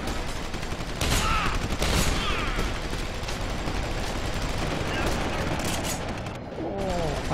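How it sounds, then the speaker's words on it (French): Big robot firing on the player in Deus Ex: Human Revolution, dense bursts of rapid game gunfire and mechanical clatter, loud and continuous, with voices talking over parts of it. "T'as un gros robot qui te tire dessus là."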